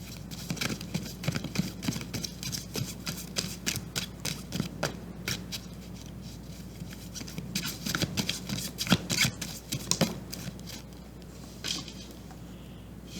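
Tarot cards get shuffled and drawn close by, a soft rapid riffling and patter of card stock in uneven bursts over a low steady hum, with no speech.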